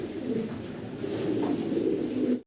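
Fancy pigeons, a large top-quality pair, coo in a low, continuous murmur close by, steady and unbroken for a couple of seconds before cutting off.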